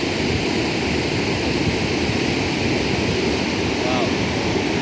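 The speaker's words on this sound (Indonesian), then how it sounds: "Ini karena langsung ke samudra ya. Ombaknya gede banget." Big ocean waves crash and roar continuously at Kasap beach in Pacitan, East Java, a dense steady surf wash with wind noise throughout, loud and close, with no clear breaks between swells.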